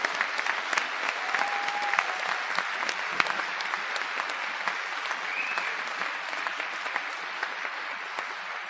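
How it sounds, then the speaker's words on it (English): Steady audience applause at a Stuyvesant Town–Peter Cooper Village community meeting, a continuous even patter of many hands clapping at moderate volume throughout. "Let's give them a big round of applause"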